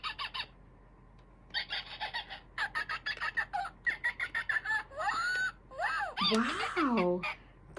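A toy ostrich sounds off after its button is pushed, giving a run of short squawking, clucking bird calls that rise into longer swooping cries, close and fairly loud.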